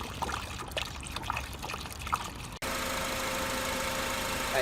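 Coolant trickles slowly into the radiator of a 2003-2007 Honda Accord, a soft continuous pour heard close up, then cut off by a steady idling engine hum.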